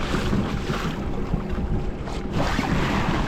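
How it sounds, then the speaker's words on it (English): Waves slap against a fishing boat out on open water while steady wind buffets the microphone, a dense continuous wash of rushing noise with no voices. "Waves are getting decent."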